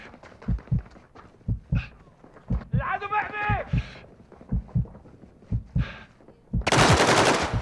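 Rapid bursts of gunfire in the Call of Duty Modern Warfare II DMZ shooter, sharp repeated shots in short clusters up close, with a player talking in between and a louder blast near the end.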